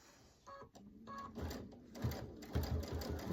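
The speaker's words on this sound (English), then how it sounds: "it will continue to sew as long as you got your foot on that gas pedal" A Radiance quilting sewing machine with a stitch regulator stitches continuously, starting with soft mechanical clicks and building into a quick, rhythmic needle chatter up close, with no talking.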